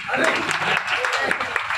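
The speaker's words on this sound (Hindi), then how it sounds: "सईद सर के लिए एक बार जोरदार तालियां" Loud, continuous applause from an audience at an education event honouring an organiser, a dense clatter of many hands filling the whole moment, with a voice speaking over it.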